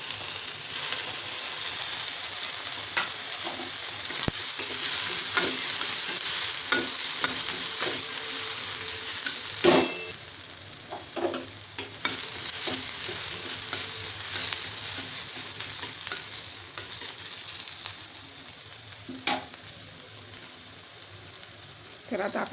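Onion, green chili and vegetables stir-frying on full flame, a steady sizzle with intermittent scraping stirs of the spatula against the pan, close and continuous.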